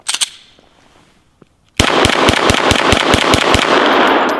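A 9mm Glock 17L pistol empties a full magazine outdoors, about a dozen loud sharp shots in quick steady succession after a brief quiet moment with a few faint clicks.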